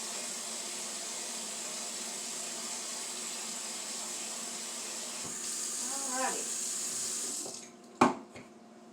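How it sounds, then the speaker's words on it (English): Water runs steadily from a kitchen tap into a pot, a constant hissing stream that stops near the end, followed by a few clunks of the pot being handled. "takes a little bit to fill this pot up with some water"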